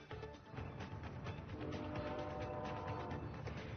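A Brightline passenger train passes on the tracks, a loud, steady rumble of rail noise that keeps up the whole time, close by and with no talking over it.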